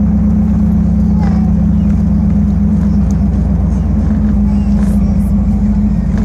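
A 1968 Dodge Charger R/T driven slowly, its engine a loud, constant low rumble that holds steady throughout with faint road noise above.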